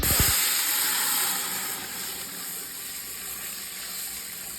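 Five cups of water pour steadily into a pot of spiced water for biryani rice, a broad, hissing gush up close, loud at first and easing slightly, with no voices.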